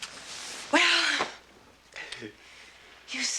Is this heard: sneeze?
yes